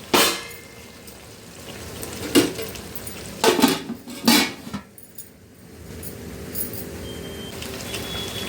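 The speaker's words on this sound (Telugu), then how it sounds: "మధ్య మధ్యలో కలుపుతూ ఉండాలి, తిప్పుతూ ఉండాలి" A metal spoon scrapes and knocks against a pot while Telangana-style fish curry, chepala pulusu, is stirred, giving a few distinct clanks and scrapes over a steady background hiss.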